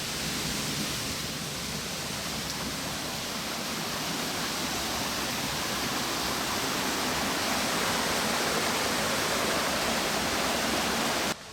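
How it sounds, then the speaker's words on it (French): A waterfall gives a steady, dense roar of rushing water at constant loudness from start to finish, with no voices over it. "Regardez la cascade qui doit être là-bas."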